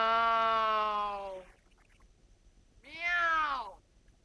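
A person imitates a cat's meow with two drawn-out, tonal meows, the first long and falling and the second shorter and rising, separated by a quiet gap.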